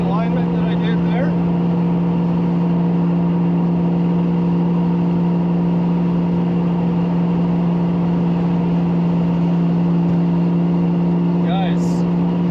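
A lowered 5.0 Foxbody Mustang cruising along, its engine holding a steady loud drone with constant road and wind noise and no break in the sound.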